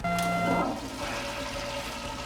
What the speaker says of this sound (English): Clogged toilet. To unclog, press the orange button.